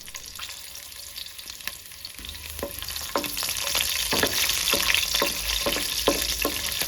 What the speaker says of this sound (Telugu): ఫ్రైంగ్ ప్యాన్లో తగినంత నూనె వేయాలి నాలుగు పచ్చిమిరపకాయ ముక్కలు వెల్లుల్లి ముక్కలు కరివేపాకు వేయాలి